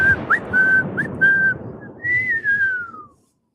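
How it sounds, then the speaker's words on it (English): A person whistles a short wavering tune of several notes, close and clear, ending in a long sliding note that fades out. "My first whistle wasn't very good."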